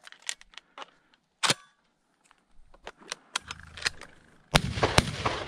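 Shotgun blasts during a January California quail hunt on open BLM land: a sharp, loud report stands out from quiet field ambience, followed by a louder burst of gunfire near the end.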